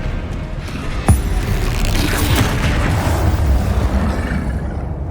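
Spell blasts from Bombarda and Confringo in Hogwarts Legacy: a sharp booming impact near the start, then a sustained rumbling, crackling roar of explosions and debris that stays loud before tapering slightly.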